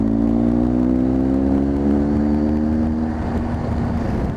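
A motorcycle engine revs hard while overtaking a slow car on the road, a loud, steady harmonic drone sweeping gradually in pitch as it accelerates, with wind rumble underneath throughout.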